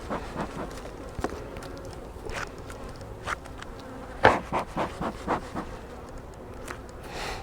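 Honey bees buzz around an open hive body, a close droning hum with passing individual bees flaring louder, mixed with light knocks and handling sounds and no talking.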